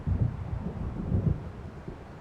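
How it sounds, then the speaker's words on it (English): Low rumbling thunder of an approaching storm over open water in Alan Wake Remastered rolls in soft, muffled waves beneath wind and ambient noise, with no voices. "It seems there's a storm coming."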